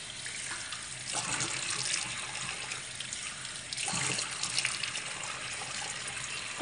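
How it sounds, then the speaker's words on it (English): Water runs steadily from a bathroom tap into a sink while a face is rinsed during a skincare routine. It is a continuous gush, close and fairly loud, with small splashes and surges and no talking. "So let me rinse."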